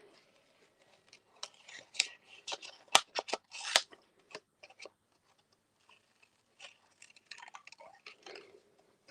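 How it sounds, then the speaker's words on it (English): Small snips cut stamped paper in a quiet crafting session, giving close, crisp clipping sounds in irregular bursts, with soft paper rustling between cuts. "going to bring in my snips, and of course I am going to go and fussy cut this"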